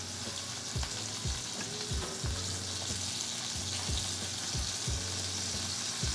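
Tomatoes frying in a hot pan, a continuous soft sizzle with scattered small pops and crackles, fairly quiet and close, with no talking over it.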